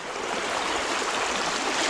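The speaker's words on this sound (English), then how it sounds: "That's the Russell fast water. Little rapids, a little too fast," Fast water at the rapids near Russell Lake in Quetico Park rushes with a steady, broad hiss and churn, loud and close, alone without voices.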